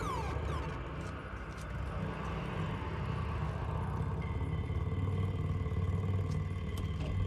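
Motorcycle engine in the Days Gone video game, a steady mid-pitched rumble that runs throughout the clip with clattering, revving texture and steady loudness, heard alone with no talk.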